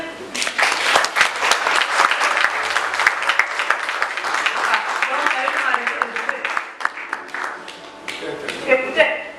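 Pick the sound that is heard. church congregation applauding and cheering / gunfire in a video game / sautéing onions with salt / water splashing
church congregation applauding and cheering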